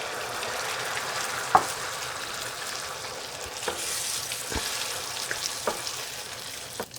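Tomato sizzles and fries in a pan with tomato paste and turmeric, a steady soft hiss broken by a few sharp clacks of a utensil against the pan.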